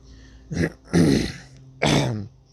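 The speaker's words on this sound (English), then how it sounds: "I'm just clearing my throat." Three harsh throat-clearing bursts close to the mic, separated by short pauses, with a low hum underneath.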